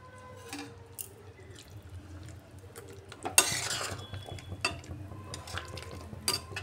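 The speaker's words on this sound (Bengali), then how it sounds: "ধনেপাতা কুচি দিয়ে একটু নাড়াচাড়া করে নামিয়ে নেব।" Ash gourd curry with sidol and chopped coriander gets stirred in a pot, with soft scraping, wet clinks and splashy utensil knocks over a low steady background hum.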